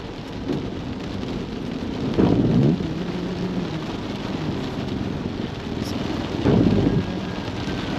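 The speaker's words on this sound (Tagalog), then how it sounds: "lumalakas pang ulan, lalo" Steady heavy rain pours as a constant hiss while car camping at a resort in Doña Remedios Trinidad, with two low rumbling swells of thunder or passing traffic rising briefly above it.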